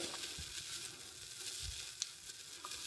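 Vegan French toast slices frying in a hot pan give a steady, moderately quiet sizzle with faint crackles and a few soft pops, heard alone with no voices.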